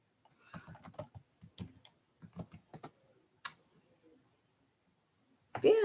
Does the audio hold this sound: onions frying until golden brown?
no